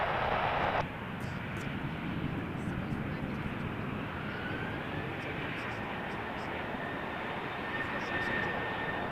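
Engine roar from a Boeing 787-8 Dreamliner bound for Warsaw at Toronto Pearson airport, a steady broadband drone that holds for several seconds without clear speech.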